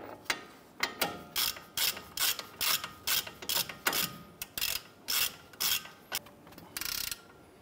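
Ratchet tightening the knuckle bolts on a 2011-2018 Ram 1500, a close, loud run of about fifteen quick clicking bursts in steady rhythm with no talking.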